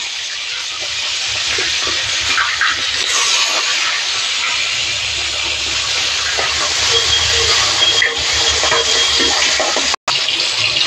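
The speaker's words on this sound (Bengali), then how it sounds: "তেলের ওপর মাছের মাথাটা ভাজতে দিই।" A fish head fries in hot oil, sizzling and hissing steadily for several seconds, a dense frying sound that cuts out briefly near the end.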